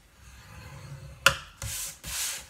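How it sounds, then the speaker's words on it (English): Thick double-folded card is scored on a score board with a quick scrape, followed by two longer rubbing strokes along the groove, close and fairly soft in a quiet room. "I'm going to score it at 1 inch on all 4 sides."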